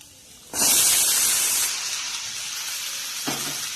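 Boiled Chinese potato (koorka) hits a hot pan with a sudden loud sizzling hiss that starts abruptly, then settles into steady frying, with a brief clatter near the end.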